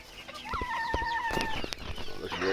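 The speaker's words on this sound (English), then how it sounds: "Look at the old Cochin hen." An old Cochin hen clucks softly nearby, a drawn-out call followed by short clucks amid scattered rustling and other fowl sounds.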